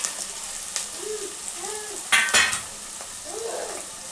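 Ginger garlic paste frying in hot oil, a soft sizzle under intermittent metal spoon scrapes against the pan, with one sharp clatter in the middle.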